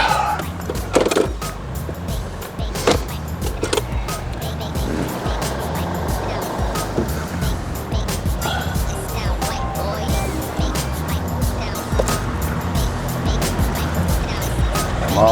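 A truck drives off-road on a bush camping trip, its engine a loud, continuous rumble mixed with rattling and bumping over rough ground throughout.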